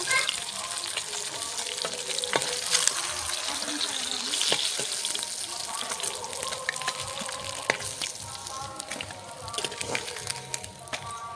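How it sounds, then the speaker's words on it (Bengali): Rohu fish pieces fry in hot oil for a Bengali fish curry, giving a steady, close sizzle and crackle that stays loud throughout, with occasional spatters and light kitchen clatter and no talking. "বাকি মাছগুলো এভাবে ভেজে নেব।"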